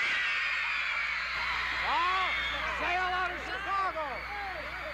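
Dense crowd of some 5,000 women screaming as the Beatles arrive at Midway Airport in Chicago in September 1964, a continuous shrill roar with rising and falling wails over a steady background din.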